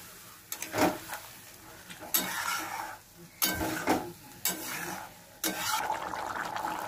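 Tomato puree being cooked down and stirred in a pan for potol rosha: about five loud, rhythmic scraping strokes, each sliding into a soft sizzle in the pauses between.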